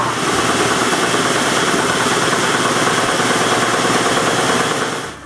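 A large workshop machine motor, newly installed, runs loud and steady in a constant droning hum with slight vibration, close by, winding down at the very end.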